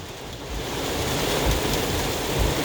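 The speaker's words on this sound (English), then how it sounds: "how much wind is that?" Strong wind gusts of about 70 mph in Castroville, Texas, a loud, dense roar buffeting the microphone, steady with slight surges and no talk over it.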